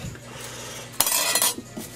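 A big spoon clinks and scrapes against a dish while bell peppers are being stuffed, a close burst of metallic rattling about halfway through after a quiet start, with no talk.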